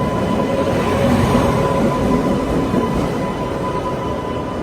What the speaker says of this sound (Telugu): మనం అయితే విజయవాడ జంక్షన్ నుంచి బయలుదేరాం